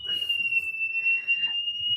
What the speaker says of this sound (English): brief intermission if we have the alarm sound going off now, which means Lola's going to get upset.